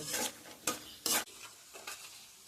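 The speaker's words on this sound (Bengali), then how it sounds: "মিডিয়াম টু হাই ফ্লেমে রেখে এটাকে ভালো করে ভেজে নেব" Potato strips and peanuts frying in a pan over medium-high flame, a few sharp bursts of stirring scrapes and sizzle separated by quieter hissing, close and fairly soft.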